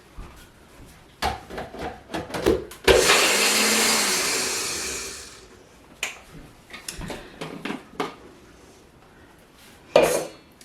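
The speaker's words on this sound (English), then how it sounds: "I just had to give it 3 shots in the magic bullet" A Magic Bullet blender whirs in one loud burst of about two and a half seconds, grinding gluten-free bread into breadcrumbs, surrounded by clattering of the cup, lid and kitchen utensils.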